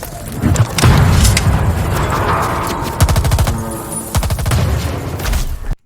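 Rapid bursts of video game gunfire crackle over booming explosions and thuds, loud and dense, with shots coming in quick volleys.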